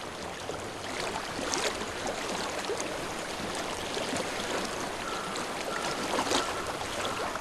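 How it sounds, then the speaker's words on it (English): Steady flowing stream in Hellblade: Senua's Sacrifice, a continuous broadband wash of running water that holds at an even level throughout, with no talk over it. "I hear water. Go to it."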